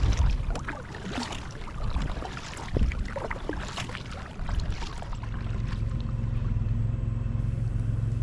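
A kayak paddle dips and pulls through water on the way back along a shoreline, with soft irregular splashes and drips close by, then a steadier low rushing of water and wind.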